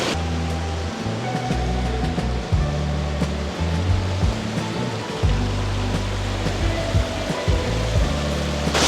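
Seawater surging and roaring over slippery coastal rocks, a continuous loud rush of surf with rumbling low swells that rise and fall in waves, heard close up with no voices.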